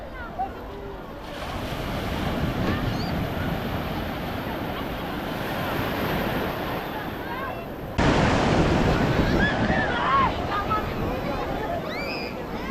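Sea surf rolls continuously onto the crowded beach at Puri, a broad rushing wash with wind buffeting the microphone. The surf grows louder in the second half, and faint voices rise now and then.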